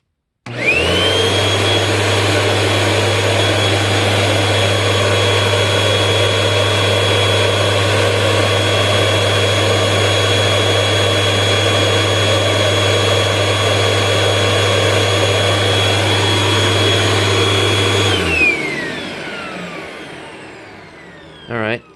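A Hoover Rewind UH71013 vacuum cleaner runs at full power through a suction test, a steady loud whine with a strong low hum holding for about eighteen seconds before winding down.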